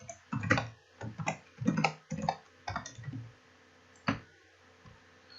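Keys tap on a computer keyboard while an email address is typed, close and fairly quiet, in short irregular bursts of clicks followed by a single final keystroke.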